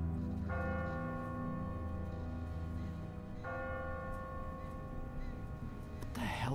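A church bell tolls from a bell tower in The Walking Dead video game, two long ringing strikes with sustained humming decay over a dense low rumble of game ambience, with voices murmuring underneath.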